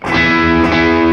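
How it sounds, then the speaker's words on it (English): A guitar played through the distortion side of a Chase Bliss Brothers AM pedal on a clean amp channel rings out as one sustained, gritty, harmonically rich chord, loud and close, with a quick attack. "Clean rhythm channel with the distortion on side 1 of the Brothers AM"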